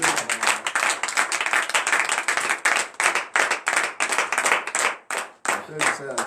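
A church congregation at morning prayer claps in a fast, steady rhythm, loud and close, with voices mixed in.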